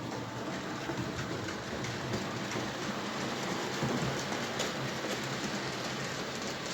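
A 4MT model locomotive running along a section of repaired model railway track, giving a steady, even rolling rumble with a faint clickety texture that holds at a constant level throughout, with no voices.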